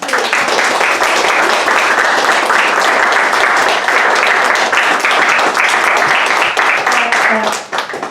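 An audience applauds after an evening talk, loud and close with dense, steady clapping that continues for several seconds before tapering, with a few voices audible near the end.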